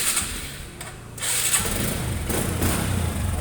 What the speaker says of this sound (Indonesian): motornya halus, nggak ngasep.